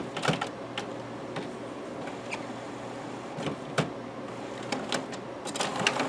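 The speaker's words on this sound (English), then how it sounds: "The service station is basically kind of what you hear at the end of the print job when it's" An HP Photosmart C-series all-in-one printer cycling its print-head service station, a faint steady mechanical whir broken by soft clicks and clunks, with no voices.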